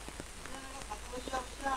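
Rain coming down in a village, a steady moderate patter, with some talk faintly in the background.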